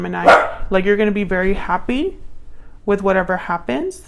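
A dog barks a few times in the background, faint and brief, while someone talks continuously over it.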